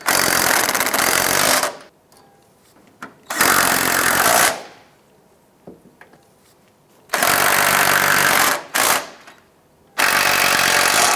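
A power wrench with a 14mm socket buzzes in loud, rapid bursts, removing the four strut nuts on a 2001-2007 Ford Escape, with quiet clicks and handling noises in the pauses between runs.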